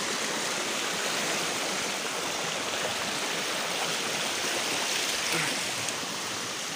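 A river in rural Laguna flows steadily nearby, a dense continuous rush of water with no pauses.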